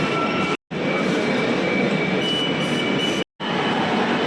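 A Kolkata metro train at New Garia station rumbles loudly with a steady roar and high wheel squeal, broken by two brief drops to silence.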